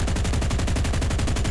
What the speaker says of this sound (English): I'm shooting with a machine gun until it finishes